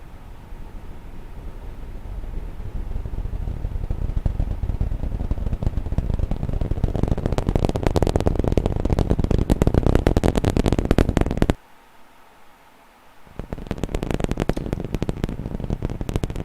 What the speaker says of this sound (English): Super Heavy Booster 7 ignited its Raptor 2 engines, generated 16 million pounds of thrust, and cleared the tower